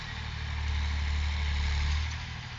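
A tractor engine runs steadily in a field of crop stubble, a low, continuous rumble that swells slightly in the middle, with no voices.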